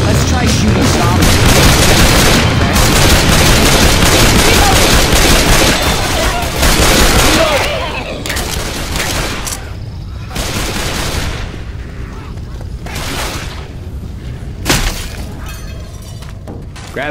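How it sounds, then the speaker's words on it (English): Dense, sustained gunfire from shooting zombies in Left 4 Dead 2, a loud continuous barrage for the first eight seconds that then thins into scattered bursts and separate shots, with brief game voices underneath. "Let's try shooting zombies."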